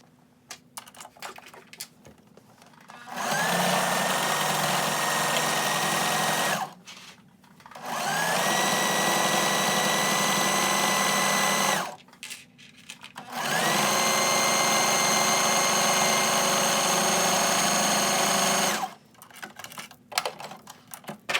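A sewing machine stitches the side seams of a quilted jacket in three long, steady whirring runs, each several seconds long, with short quiet pauses and fabric handling between them.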